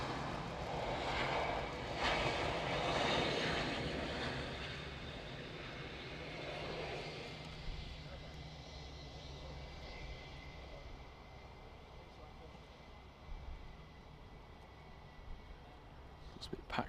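Airplane engines roar steadily at Manchester Airport, loudest at the start and settling into a sustained, moderately loud drone with a low hum underneath.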